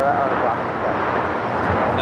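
A jet airliner takes off from runway 25 right at Los Angeles International Airport, a steady, dense roar that holds at an even level throughout.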